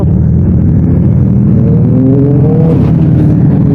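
A Kawasaki ZX10R superbike engine revs loudly nearby, a deep steady rumble that rises in pitch as the throttle opens toward the end.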